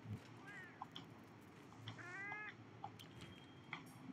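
A Palico cat meows in the video game Monster Hunter World: Iceborne, two short quiet mews over a faint game backdrop with scattered soft clicks.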